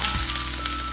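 Some ten to twelve chopped small onions (shallots) drop into hot oil in a pan for a Kerala sadya vada koottu curry, giving a loud, close, continuous sizzle and crackle without talk.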